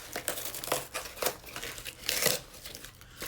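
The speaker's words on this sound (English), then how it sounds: "Just rip her open." Cardboard and plastic packaging of a Kershaw Bareknuckle knife box being ripped open by hand, a run of close crinkling and tearing bursts with a louder rip near the end, no talk.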